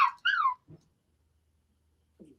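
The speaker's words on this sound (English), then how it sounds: "Damn, that dog's crazy." A dog gives a couple of high whimpering cries close by, followed by short low grunts and a quiet pause, then another faint whine.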